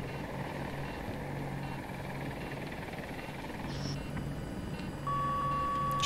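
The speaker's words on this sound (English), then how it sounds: "Chopper right ahead." Helicopter flying in the video game Battlefield 2042, a steady rotor drone holding throughout at moderate distance, with a high electronic tone cutting in near the end.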